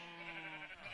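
Sheep in a Minecraft-style video game bleat once in a short, wavering tonal call, heard close and alone.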